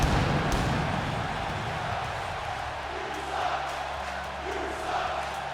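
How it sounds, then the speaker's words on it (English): Video game arena crowd in WWE 2K17 during a Smackdown Live show in California, jeering and chanting at Roman Reigns; a steady, dense roar of many voices fills the whole stretch with faint swells of chanting. "listen to this Smackdown Live crowd here in California. They are giving it to Roman Reigns. You suck chants"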